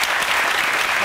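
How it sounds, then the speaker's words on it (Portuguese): Studio audience applauding on a Portuguese TV cooking show, a dense burst of clapping that is loud and steady for about a second. "Sara, um bom palmas, por favor."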